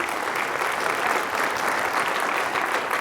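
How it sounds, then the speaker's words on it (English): Steady, dense applause from a seated audience at a science demonstration, many hands clapping evenly and continuously at moderate loudness throughout. "can I have a round of applause for our neurosurgeon?"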